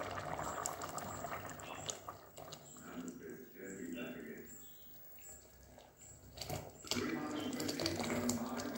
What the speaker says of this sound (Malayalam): ഇനി ഇതിലേക്ക് നമ്മൾ അരച്ച് വെച്ച ശർക്കര പാനിയും കൂടി ഒഴിച്ചു കൊടുക്കാം.